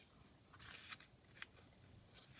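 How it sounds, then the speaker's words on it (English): Background paper torn by hand along a fold, a few faint, quiet ripping bursts with soft rustles between them, close by and without talk. "I'm just going to tear that down roughly where that fold was"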